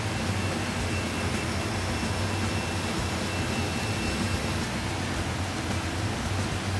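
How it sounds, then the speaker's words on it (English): A table saw runs and cuts material for a butt joint, producing a loud, dense, unbroken roar that holds steady at close range for the whole stretch. "Turn on the saw and then make the cut, moving the material smoothly through the saw."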